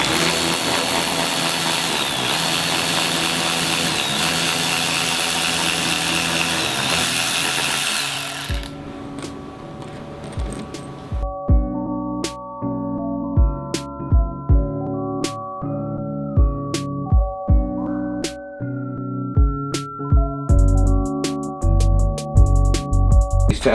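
A power tool cuts a front splitter for a Honda S2000, first a loud continuous grinding whine for several seconds, then a series of sharp intermittent bursts and clunks with a humming tone underneath.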